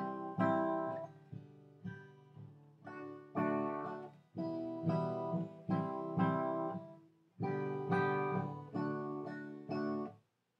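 Acoustic guitar chords strummed in a steady repeating pattern, several bars with brief pauses between phrases, close and clear, no talking.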